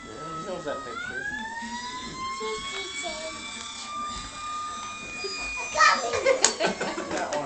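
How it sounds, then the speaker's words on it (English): A fire truck siren wails in a long, steady rising-then-level tone, moderately loud, while children chatter and call out over it near the end. "The engine's coming!"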